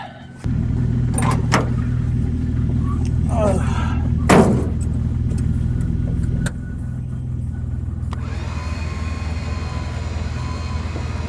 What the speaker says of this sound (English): Let's see if I can get this winch rolled out.